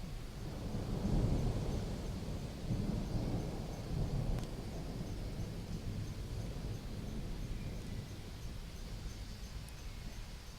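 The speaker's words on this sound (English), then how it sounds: "This Daytime Thunderstorm is one of my favorite." A daytime thunderstorm ambience played back on an Android relaxation app: steady rain hiss with low rolling thunder rumbles swelling early, continuous and moderately loud, with no talking.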